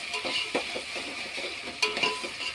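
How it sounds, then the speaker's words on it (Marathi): Chopped tomato stirred into frying onion in a pan for chicken biryani, a steady sizzle under soft scraping and occasional clinks of a spoon against the pot, close and continuous. "आपण आता त्यात टोमॅटो घालूया बारीक कापलेला, मिक्स करून घेऊया त्याच्यामध्ये"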